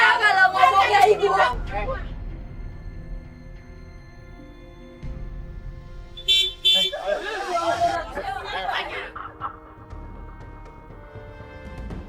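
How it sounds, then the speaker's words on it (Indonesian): Car horn honking in short loud bursts on a street, standing out amid chatter and people talking nearby. "Tiba-tiba ada bunyi klakson mobil."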